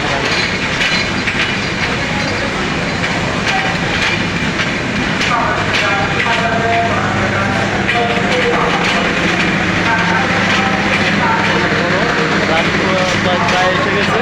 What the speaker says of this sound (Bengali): ট্রেনটা কিন্তু যাইতেছে রানিং